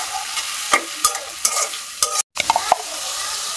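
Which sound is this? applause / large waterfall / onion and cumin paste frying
onion and cumin paste frying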